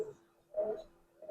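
A male silver Giribaz pigeon gives a soft, low coo, one short swelling call in a quiet setting with a faint second start at the end.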